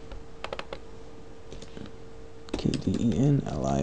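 Quick bursts of keystrokes on a computer keyboard, clicking close by in short clusters, followed by someone speaking.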